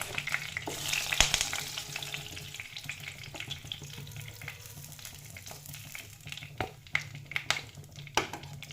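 Paneer cubes frying in a pan give a steady close sizzle with scattered clinks and scrapes of stirring, louder early on and then lighter crackles; no speech.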